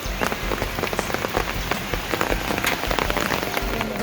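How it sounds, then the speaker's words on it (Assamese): Steady rain pattering on a surface, dense and continuous with scattered heavier drops, fairly close and loud. "বৰষুণ আহি আছে আৰু পৰিলে বৰষুণ।"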